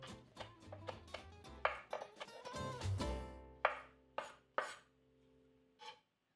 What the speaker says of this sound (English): So now I just finely chop this and dried.